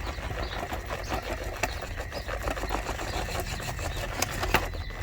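A Traxxas TRX4M RC crawler grinds over an obstacle on a tricky section, with a busy clicking and whirring motor, small crunches and taps, close and continuous without talk.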